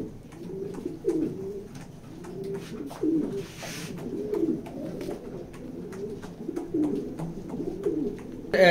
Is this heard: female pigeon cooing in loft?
yes